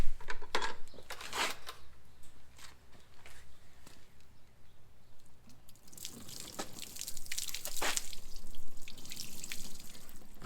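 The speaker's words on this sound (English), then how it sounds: "And just wash it off with some water." Water from a bucket splashed over a car headlight lens during restoration: intermittent close splashes and trickling drips, quiet overall, with a busier burst of pouring and splashing toward the end.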